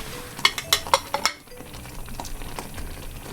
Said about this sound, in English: you're just going to keep constantly stirring that